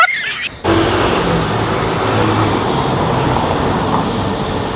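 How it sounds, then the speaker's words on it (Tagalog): A city bus rumbles nearby with broad, steady engine and road noise that starts abruptly and continues without a break. "Ito guys yung sasakyan nating bus."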